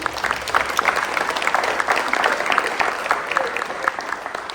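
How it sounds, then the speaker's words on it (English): A school audience at a students of the month ceremony gives a round of applause for principals and teachers: steady, dense clapping from many hands for several seconds, loud and close, with little talk. "Let's give them a round of applause too."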